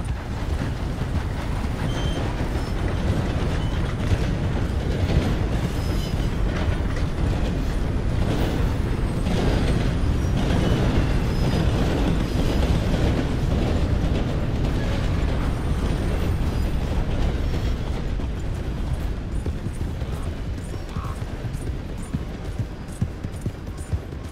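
A train rumbles past in the video game Red Dead Redemption 2, a dense, continuous mechanical roar with rhythmic clatter that stays loud across the whole stretch before easing slightly near the end.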